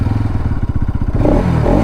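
Bajaj Pulsar NS 200 motorcycle engine revving up close, a loud pulsing exhaust that rises in pitch into a rougher, harsher roar near the end.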